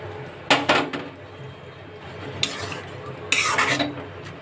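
Spoon scraping and clinking against a pan while stirring matar paneer in a milk gravy with peas, a few short bursts of clatter separated by quiet simmering.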